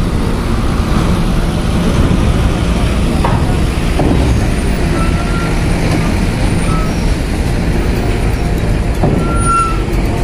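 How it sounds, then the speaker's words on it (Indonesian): Hino trucks drive out past the spot, a loud, steady engine rumble with a few sharp hisses of air brakes and faint high beeps over continuous road noise. "Masih para truk Hino yang keluar guys"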